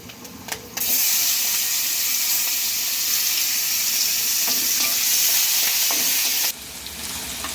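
Chopped onions hit a pan of hot oil with bay leaves and five-spice seasoning for dal, starting a sudden loud, sustained sizzle that holds steady for several seconds before dropping to a quieter fry.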